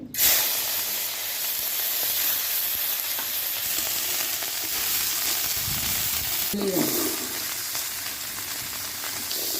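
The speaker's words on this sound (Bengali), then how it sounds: "আলা শুটকিরে বাজছি" Dried fish fries in hot oil, making a close, continuous sizzle and hiss, with a sharp burst at the start and a stir or scrape around the middle.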